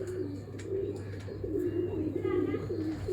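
A pigeon with fine feathers coos from close by in soft repeated low bursts while someone talks over and between the calls.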